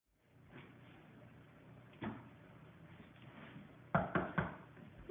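Several sharp knocks on a door land in a quick cluster near the end, following one earlier lone knock over a low room hum.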